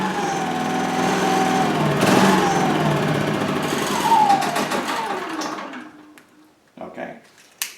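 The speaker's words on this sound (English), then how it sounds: "So I'm just going to start it up and then shut it down." A Yamaha EF2400iSHC inverter generator cranks and its small engine starts, running with a buzzing, revving drone, then shuts off near the end and winds down to quiet, with a voice talking over it.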